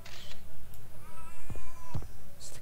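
A cat meows in the video game Broken Sword: Shadow of the Templars, a clear drawn-out call over soft background game ambience, with a couple of sharp clicks near the end.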